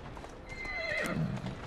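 A horse whinnies loudly and close in Assassin's Creed Syndicate, a rising then falling neigh lasting about a second, with faint hoof clatter before it.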